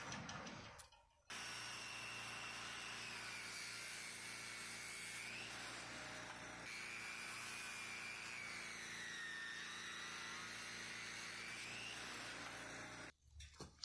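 A power saw cuts through 2x6 lumber in a loud, sustained whine that holds steady for about twelve seconds, rising and dipping slightly in pitch as the blade works through the board.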